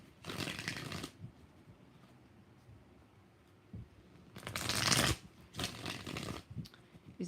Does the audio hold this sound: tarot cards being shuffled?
yes